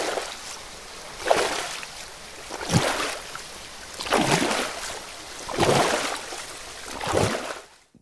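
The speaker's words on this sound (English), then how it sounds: "It's a waterfall." Water rushes from a waterfall in repeated loud surges, roughly every one to two seconds, with a near, steady hiss between swells and no voices.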